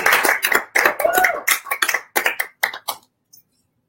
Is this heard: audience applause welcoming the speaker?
yes